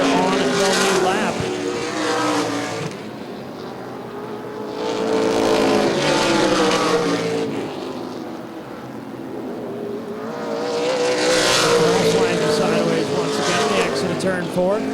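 ARCA/CRA Super Series stock cars racing the Summit City 100 on the Baer Field Motorsports Park oval, engines roaring and swelling as the pack sweeps past in waves, with an announcer calling the race over the noise.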